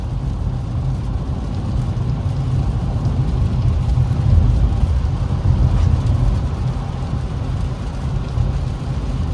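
Steady rain while driving an Infiniti Q50s, heard as a constant broadband wash over the low rumble of the car's engine and road noise, with no one speaking.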